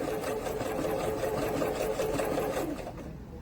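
A Singer Quantum Stylist 9960 computerized portable sewing machine stitches in a fast, steady, close mechanical whir that runs evenly and then tapers off at the end.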